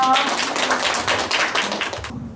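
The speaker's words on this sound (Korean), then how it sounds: "박수 한번 더 쳐주세요" A crowd at a community fridge event claps steadily for a couple of seconds, dense overlapping hand claps that fade out abruptly near the end.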